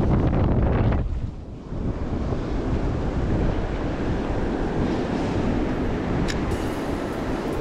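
Surf breaking on a beach with strong wind buffeting the microphone, a steady loud roar of waves and gusts throughout, with a brief lull near the start.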